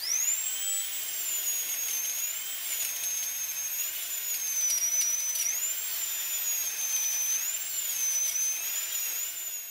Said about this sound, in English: Has the sound of a drill burrowing its way into the fresh root of an exposed crown.